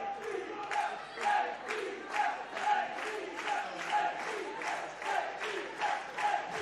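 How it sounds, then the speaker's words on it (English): Home supporters at a women's World 7s football match chant and cheer in a rhythmic pattern, distant and fairly quiet, with regular rising surges of crowd voices under a commentator's talk. "Home crowd cheering them on."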